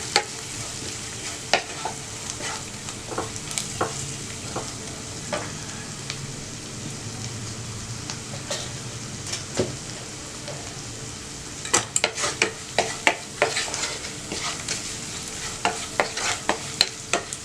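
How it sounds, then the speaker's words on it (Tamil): Spice masala of turmeric, chilli powder, coriander powder and two chillies stirred and fried in a pan: a loud continuous sizzle broken by frequent sharp spatula scrapes and clicks that cluster densely toward the end. "இப்போ வந்து இந்த மசாலா ஃப்ரை ஆகிடுச்சு"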